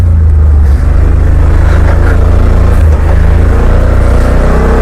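A 2020 Yamaha Wolverine X2 XTR side-by-side drives along trails, its engine a loud, steady drone that holds constant with slight shifts in pitch as it picks up a little speed.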